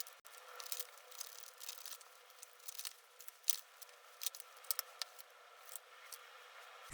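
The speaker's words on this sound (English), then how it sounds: "while I do the shuffling" Tarot cards are shuffled by hand in a quiet stretch of soft riffling, clicking and crinkling bursts, close and fairly faint, with no talking.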